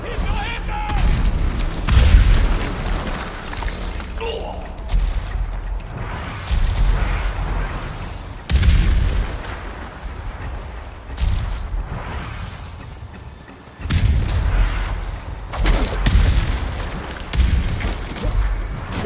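Cannon artillery fire in the video game Ghost of Tsushima, heavy booms and blasts recurring through the scene with battle noise, loud and close, and talk over parts of it.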